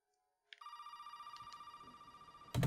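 Telephone in Resident Evil 7 ringing after a moment of silence, a quiet electronic bell tone pulsing rapidly and continuously, then cut off by a sudden louder noise at the end.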